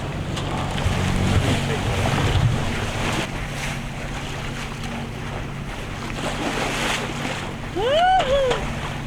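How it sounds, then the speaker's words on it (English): Steady engine hum of a sailboat motoring on open ocean, under rushing wind and wave noise, with a brief whistling chirp near the end. "now that we're motoring a little bit"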